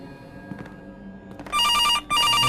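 A telephone rings inside a horror video game, two loud electronic ring bursts with a short gap between them, following a stretch of quieter low ambient game sound.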